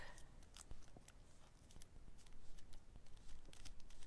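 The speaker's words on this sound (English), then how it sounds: "So I purposely cut my white cardstock" Scissors cutting through white cardstock, giving a series of crisp, quiet snips and paper crinkles close to the mic, spread irregularly across the stretch without any talking.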